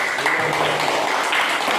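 A classroom gives a short round of applause for a student group, a steady wash of many hands clapping at once for a couple of seconds.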